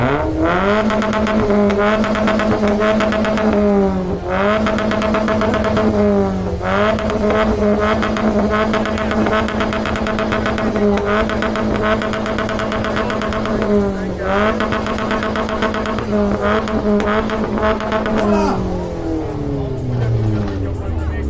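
A Mazda with a 1.4 engine revs its exhaust hard at a stance-day decibel measurement in Šurany, loud repeated revving with harmonics rising and falling across several pulls, then easing off near the end.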